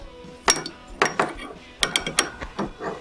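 A fan belt pulley is unscrewed on a Buran snowmobile: close, crisp ratcheting clicks in short irregular bursts, like a ratchet wrench turning against metal, with no talking.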